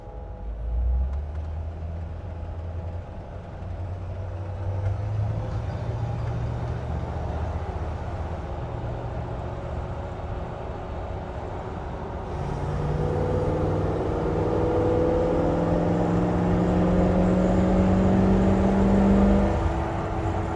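A 1951 Ford pickup truck cruising southbound on Interstate 5 in traffic, heard from inside the cab: a steady low engine drone and road rumble with whirring tones that rise as it accelerates, growing louder midway through.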